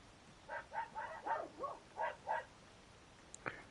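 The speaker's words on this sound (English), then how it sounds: "you guys are also going to hear my dogs, probably" Small dogs bark in a room, about seven quick yaps in a cluster followed by a sharp click and one last short sound, fairly faint and with no talk.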